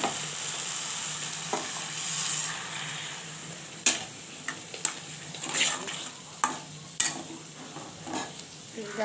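Boiled lentils tipped into a pan of fried jute greens and stirred, giving a steady sizzle with sharp scraping and clinking knocks of the spoon against the pan, close and fairly loud.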